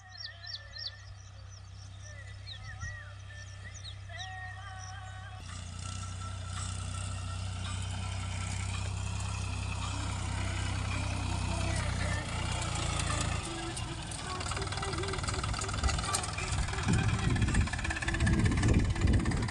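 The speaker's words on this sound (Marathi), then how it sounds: "आलाय ट्रॅक्टर आता" Tractor engine idling with a steady low rumble that grows slightly louder over time, with birds chirping in the background early on.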